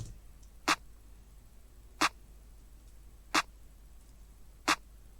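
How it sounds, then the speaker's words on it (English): A very basic clap pattern from a Midwest indie guitar sample pack: four crisp, evenly spaced claps about 1.3 seconds apart, each sharp and short over a quiet, low hum. "it's like the most basic clap pattern that you could imagine."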